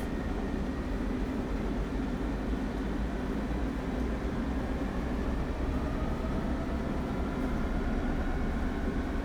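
Diesel train engine in Train Sim World 2 on the Peninsula Corridor route, a steady low rumbling drone heard from inside that stays even throughout, with no talking.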